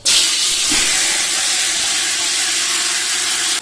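Marinated chicken for biryani dropped into hot oil, a sudden loud burst of hissing that settles into a steady strong sizzle.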